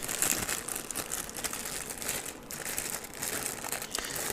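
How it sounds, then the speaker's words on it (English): A multi-use plastic bag is crinkled while unpacking an HP mini PC, giving continuous soft rustling and crackling up close, with no talk. "And you get actually also a multi-use plastic bag, which is nice."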